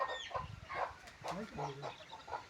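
Hens clucking in short, uneven bursts nearby as they are fed grain in a village, with a few higher squawks mixed in and faint human voices in the background.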